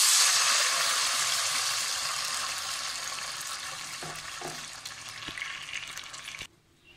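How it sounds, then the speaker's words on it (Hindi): Water is poured into a pot of browned onions while cooking white chana handi, setting off a loud sizzling hiss that gradually fades and quiets. "अभी हम इसमें पानी ऐड करेंगे।"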